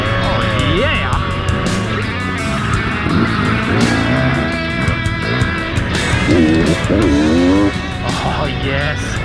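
A Beta 200RR dirt bike rides single-track trail, its two-stroke engine revving up and down in rising and falling pitches close by, with voices shouting over it.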